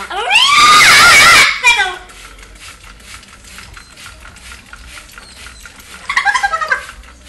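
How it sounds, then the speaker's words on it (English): A pet bird squawks loudly and shrilly for about a second and a half during a bath under running water, then gives a shorter burst of chirpy squawks near the end, with steady water noise throughout. "She's just squawking."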